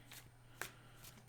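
Tarot cards are shuffled by hand in a quiet room, giving soft riffling bursts and one crisp snap near the middle, faint and close with no talking.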